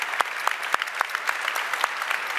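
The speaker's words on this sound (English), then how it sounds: "So a round of applause for those guys." Audience applause for the Matterport winners at the Solid 2014 hardware startup showcase, a steady wash of many hands clapping with sharp individual claps standing out, close and sustained.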